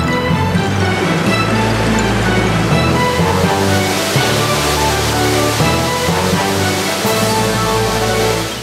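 Water cascades over the limestone karst barriers of the Krka River in Croatia, making a loud, continuous rushing roar that stays steady and close throughout, with no talking.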